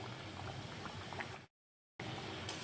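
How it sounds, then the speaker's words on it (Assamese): Sooji pooris fry in hot oil with a dense, steady sizzle and bubbling, broken by a brief silent gap before the crackle resumes. "এনেদৰে ওলট পালট কৰি চুজি পুৰিখিনি এনেদৰে ভাজি ল'ম"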